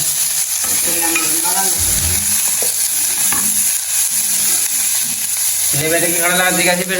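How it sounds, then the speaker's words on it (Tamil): Onion, okra and curry leaves fry in a pan with a steady, loud sizzle, interrupted now and then by scraping stirs. A voice murmurs faintly underneath. "வெங்காயம் போட்டாச்சு உள்ளி வெண்டை கருவேப்பிலை கடலை"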